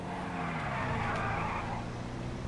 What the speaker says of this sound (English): Drift truck.